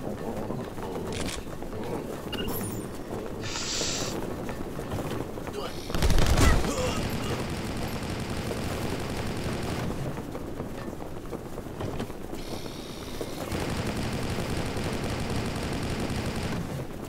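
Bursts of gunfire in the side-scrolling action game Rocketbirds during a palace assault, scattered shots and crackling volleys with one loud blast near the middle, set against steady background noise.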